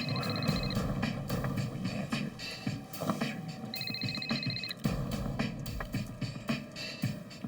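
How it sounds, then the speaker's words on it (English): A telephone rings in two bursts of rapid electronic trills, moderately loud amid a busy background with scratchy noise and a low hum. "That afternoon, Polo's phone rang."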